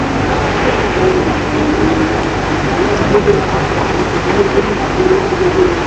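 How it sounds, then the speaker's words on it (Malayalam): Rain falling in the Sundarbans mangrove forest, a loud, dense, continuous hiss of downpour that stays even for the whole stretch, with no voices. "നല്ല സൂപ്പർ മഴയാട്ടോ."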